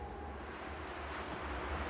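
Steady low wind rushing and blowing in the video game Unravel, even and continuous throughout, with no voices.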